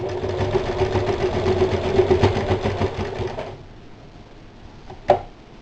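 A sewing machine hums steadily at close range while stitching pot holder pockets onto a festive holiday apron, then stops, leaving quiet room tone and one sharp click.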